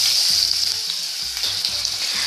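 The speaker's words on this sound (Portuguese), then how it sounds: "vou começar a fritar o bacon" Steady, bright sizzling of bacon frying in a hot pan, a continuous crackle with occasional louder pops, close up.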